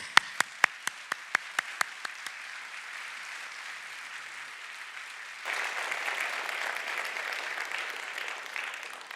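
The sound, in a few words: audience applause welcoming Vinton Cerf to stage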